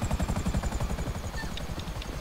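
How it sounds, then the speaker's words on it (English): Helicopter in the GTA 5 video game, a rapid rhythmic chopping of rotor blades, close and steady, with no voices over it. "there's some kind of helicopter in the road"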